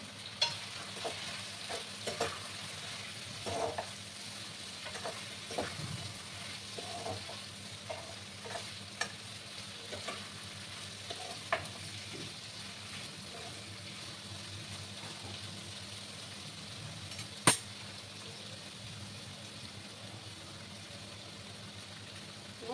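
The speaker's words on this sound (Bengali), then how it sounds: "দিয়ে ভালো করে নাড়াচাড়া করে দিতে হবে।" Food frying in a pan with turmeric powder just added, stirred with repeated soft scrapes of a spoon over a low, steady sizzle, with one sharp clank near the end and no talking.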